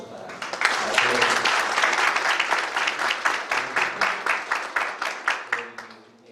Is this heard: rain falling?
no